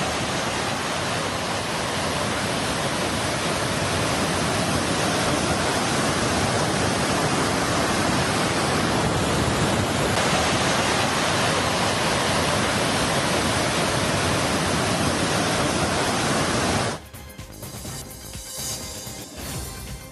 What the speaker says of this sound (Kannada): ಡ್ಯಾಂನ 8 ಗೇಟ್ಗಳ ಮೂಲಕ ನೀರನ್ನ ಹೊರಕ್ಕೆ ಬಿಡಲಾಗ್ತಾ ಇದ್ದು